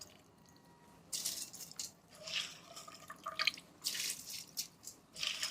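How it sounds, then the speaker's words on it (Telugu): Soaked basmati rice tipped into a pot of boiling water for chicken fry piece biryani, giving soft intermittent splashing and dripping bursts, close by with no talk. "సో ఇప్పుడు నానబెట్టుకున్నాం కదా గంట సేపు, సో చక్కగా ఇందులో వేసేసుకుందాము."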